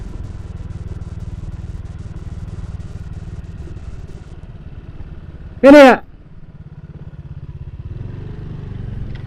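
A Honda Beat scooter rides off-road along a forest track, its small engine droning steadily and close throughout, with a brief loud voice cutting in midway.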